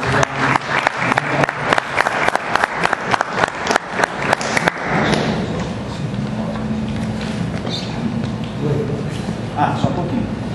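A congregation at a Christian political gathering claps in a steady rhythm for about five seconds, then breaks into a sustained, dense wash of applause and crowd noise with voices mixed in.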